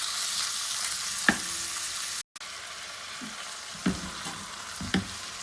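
Keema masala fries in a pan, a steady close hiss of sizzling broken by a few sharp scrapes of stirring and one brief dropout.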